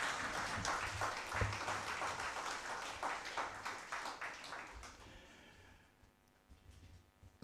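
Applause from a conference audience on World Statistics Day, many hands clapping in a fairly distant, even patter that thins and fades away over the last couple of seconds.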